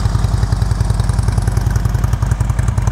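A Harley-Davidson Ultra Classic motorcycle engine idles close by with a loud, steady, loping beat, a continuous rhythmic rumble with no voice over it.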